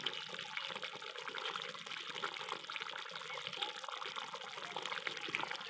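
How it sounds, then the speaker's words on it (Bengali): Fish curry broth boils in a pan with a faint, steady bubbling and hissing that goes on without a break and with no voices. "ঝোলটা আমার ভালোভাবে ফুটে গেছে"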